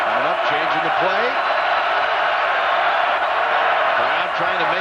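Stadium crowd roaring steadily and loudly at a 2006 Texas A&M at Kansas college football game, a dense continuous wall of noise with some whoops rising out of it and an announcer talking over the top.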